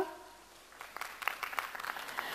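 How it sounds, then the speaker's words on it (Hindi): Audience applause at a Kathak dance and music festival, quiet and distant, with scattered claps building up over a couple of seconds after a fading tone. "एक बार जोरदार ताली उदय शंकर मिश्रा के लिए"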